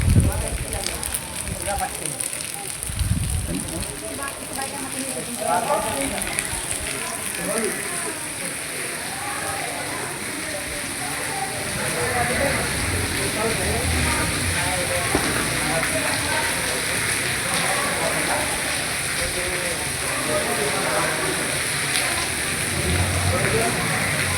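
Continuous rain falling at a crowded temple festival, a broad steady patter and hiss lasting throughout, with people talking indistinctly in the background.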